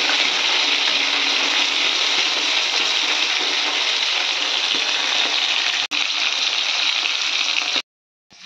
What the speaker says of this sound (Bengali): তো এই যে মাছ ভাজা।